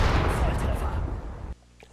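Mortar firing in the WWII strategy game Sudden Strike 4, Siege of Leningrad mission, a loud continuous rumble of booming blasts that cuts off abruptly near the end.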